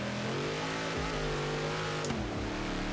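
Off-road truck engine in a Hot Wheels racing game, revving hard with rising and falling pitch and gear shifts, loud and close, with a brief squeal near the end and no talking.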